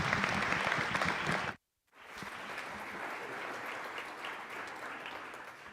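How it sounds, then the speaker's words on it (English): Enthusiastic applause from an audience at a public conversation event at Ohio State University, briefly cut off by a short silence, then resuming as steady sustained clapping. "Can you give him a round of applause?"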